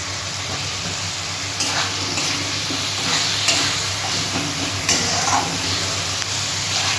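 Spice paste with chopped and ground tomato frying in a pan for spicy eggplant and singi fish curry, a loud steady sizzle up close with several stirring scrapes breaking through it.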